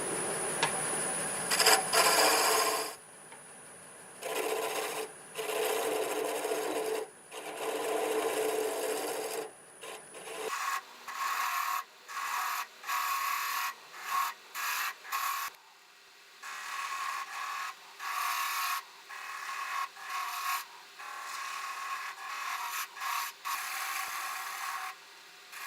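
Wood lathe spinning a piece at 900 RPM, a tool rasping and scraping against the turning wood in repeated bursts, close and fairly loud, with short pauses between cuts.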